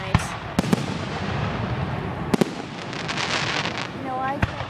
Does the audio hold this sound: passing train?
no